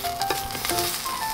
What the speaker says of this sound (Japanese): 中火で焼いていきます